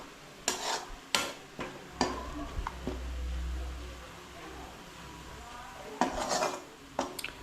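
Onions fry in a pan while being stirred, with scattered clanks of a utensil against the metal, a low rumbling stretch in the middle and a soft sizzle underneath, fairly quiet and without talk.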